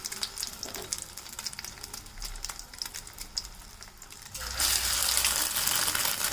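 Chicken potato cutlets fry in mustard oil with a crackling, bubbling sizzle that grows suddenly louder and steadier near the end, heard up close with no talking.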